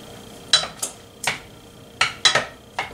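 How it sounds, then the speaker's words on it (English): A utensil stirs cooked farro in a metal pot, giving about eight light, bright scraping clinks at an uneven pace, close and alone in a quiet room. "I'm going to give it a little stir"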